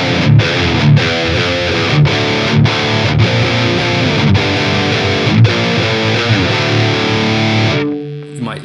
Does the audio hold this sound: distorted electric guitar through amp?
yes